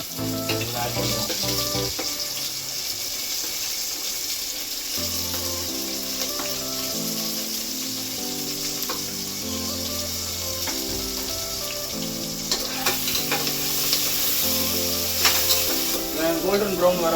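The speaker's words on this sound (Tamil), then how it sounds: "கோல்டன் ப்ரௌன் வர வரைக்கும் வதக்கணும் ஃப்ரெண்ட்ஸ். இந்த பச்சை வெங்காயம் இருக்கான்ல, நல்லா வதக்கணும்." Onions, curry leaves and green chillies sautéing in oil for chicken biryani, a continuous close sizzle with occasional stirring clatter, overlaid by steady background music throughout.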